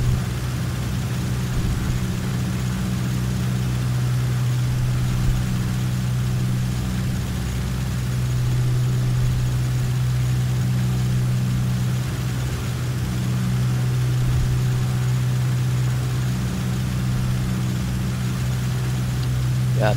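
A steady low engine drone hums continuously from an aircraft engine in Microsoft Flight Simulator X, flying traffic patterns over Cascais, with a faint voice murmuring underneath.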